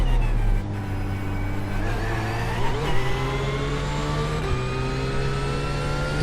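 A GT3 race car engine in the iRacing simulator climbs steadily through the revs, then a gear change briefly drops the pitch before it rises again, loud and close, with a whining drivetrain tone.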